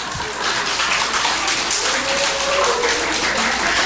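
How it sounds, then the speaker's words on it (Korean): A church congregation claps during a Sunday sermon, a dense, continuous patter of many hands spread across the room at even loudness, with no voices over it. "옆에 있는 남자들 보고 박수 좀 한번 쳐주세요."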